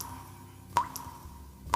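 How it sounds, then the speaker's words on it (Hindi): Sea water drips in a ship corridor: two distinct, sharp drops land about a second apart against a faint steady background hum, close by and otherwise quiet. "समंदर का पानी टपकने की आवाज़ें थी"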